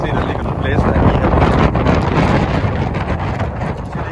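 Strong wind buffets the microphone aboard a sailboat under reduced sail off Tenerife, a loud continuous roar with gusting surges and rushing water below it.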